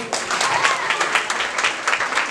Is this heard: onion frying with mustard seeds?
no